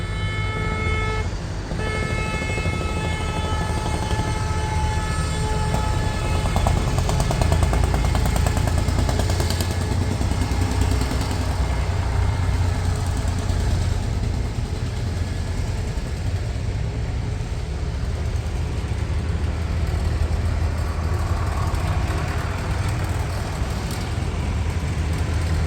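Old vintage tractors run at a Téléthon gathering, their steady low engine drone filling the air continuously with a horn-like tonal note near the start and mechanical clatter throughout.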